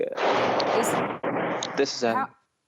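A mortar shell explodes nearby in a war zone, a loud roaring blast that rumbles on for about a second, then a second burst of rumble, with a brief voice at the end.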